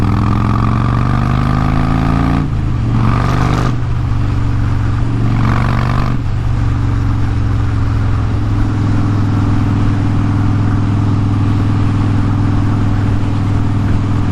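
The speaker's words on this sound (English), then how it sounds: "We'll ride downtown and I'll let you guys take a look at the bike." A motorcycle ride through downtown streets, with a loud, steady engine drone close to the rider and a couple of brief shifts in pitch.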